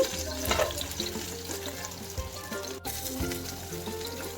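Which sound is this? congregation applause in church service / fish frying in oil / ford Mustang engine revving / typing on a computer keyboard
fish frying in oil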